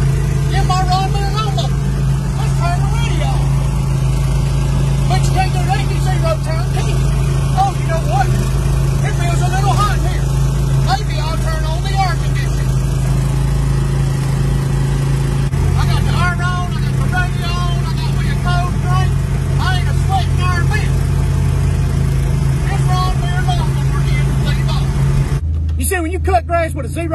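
Steady, loud low drone of a riding lawn mower engine cutting grass, running continuously close to the mic, with someone talking over it and a brief clunk near the end.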